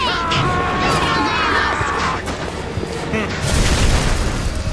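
The Incinerate fire attack in the video game Bioshock roars and crackles with booming bursts of flame, loud and dense, while game voices speak over the noise.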